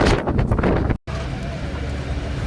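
Steady wind buffets the microphone on the clifftop coast at Durdle Door on the Jurassic Coast, a loud continuous rush broken by one brief dropout near the middle.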